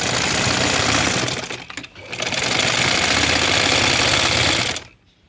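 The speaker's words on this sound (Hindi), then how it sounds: "ये मैं नीचे की तरफ से सिलाई ला रही हूँ" Sewing machine stitching a kunday wali shalwar, running in a loud continuous rapid whir with a brief slowdown near the middle before it stops near the end.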